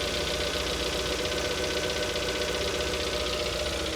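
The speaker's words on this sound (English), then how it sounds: "It's a little bit of a tick, tickety tick tick tick." A 2.4-liter MultiAir car engine idles with a slight tick, giving a steady, close mechanical hum with a fine rapid ticking running through it and no voices.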